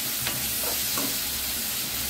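Tomato sautéing in a pan with softened onions for a fish curry, a steady close sizzle with faint stirring scrapes throughout.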